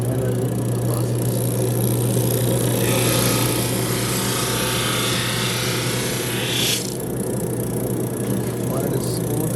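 A wooden guitar neck blank is fed through a planer, giving a loud steady motor roar with a brighter cutting hiss that swells and then drops off near the end.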